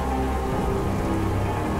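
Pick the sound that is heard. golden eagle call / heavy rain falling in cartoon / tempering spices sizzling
heavy rain falling in cartoon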